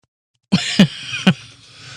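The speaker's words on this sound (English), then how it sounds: "I have to cough now." A man coughs several times in quick succession, close and sharp, after a moment of silence.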